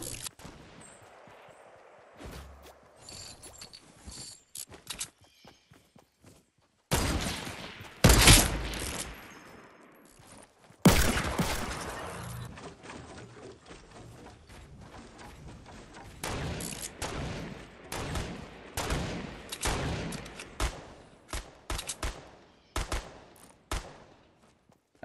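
Gunfire in Fortnite Battle Royale comes in sharp single shots and rapid bursts, scattered across the stretch with a few loud volleys and quieter gaps between them.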